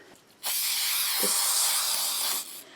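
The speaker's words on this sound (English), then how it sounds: "I'm just using spray adhesive." A single long hissing spray from a spray adhesive can, close by, lasting about two seconds before cutting off.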